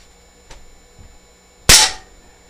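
A stock Crosman 2240 air pistol fires a single sharp, loud crack at a target, preceded by faint small clicks of handling.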